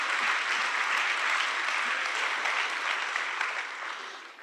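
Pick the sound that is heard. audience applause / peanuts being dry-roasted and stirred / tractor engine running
audience applause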